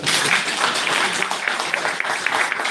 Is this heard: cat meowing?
no